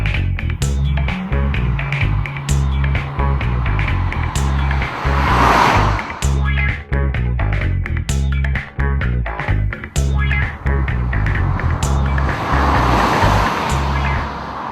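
A Peugeot 308 1.6 HDi turbo diesel on the move, heard as a loud continuous road and engine roar with a low drone and tyre rush, steady with slight surges.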